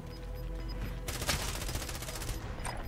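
Call of Duty Warzone gunfire: a faint rattle early on, then a sudden loud run of rapid automatic shots crackling in a tight rhythm for a couple of seconds.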